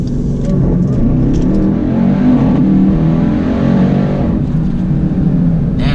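A 2018 Jeep Trackhawk accelerating hard in a launch control pull, its engine roaring loud and close with a rising pitch through the run.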